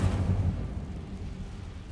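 The Incendio fire spell is cast in the video game Hogwarts Legacy, giving a deep rumbling whoosh that starts strong and slowly fades over about two seconds, with no talk.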